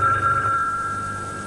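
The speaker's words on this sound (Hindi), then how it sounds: "सलीम का फोन होगा" A household telephone rings in a scene from an old Pakistani television drama, one short sustained electronic ring heard close and clear with no talk over it.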